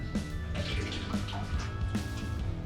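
Nikwax Tech Wash pours into a basin of warm water for hand-washing an Osprey backpack, giving soft splashing and dripping liquid sounds close by with faint background hum.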